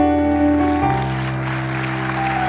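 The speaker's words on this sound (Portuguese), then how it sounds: "É um bom lugar para aplaudir." Audience applause during a church sermon on honor fills the room over sustained held keyboard chords, a steady even wash of clapping for the whole stretch.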